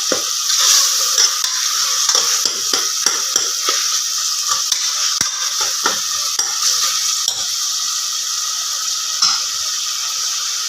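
Tomato, onion and ginger garlic paste sauté in a pan for beef gravy, sizzling steadily with repeated scrapes and stirs of a utensil against the metal, close and continuous with no talking.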